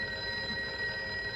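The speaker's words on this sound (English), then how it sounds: "I was greeted by a sound very much like that of a phone ringing." A telephone ringing as a radio drama sound effect, a steady electric bell tone held throughout, fairly loud and alone.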